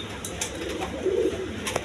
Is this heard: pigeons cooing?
yes